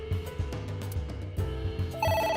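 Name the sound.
telephone ringing in AI: The Somnium Files video game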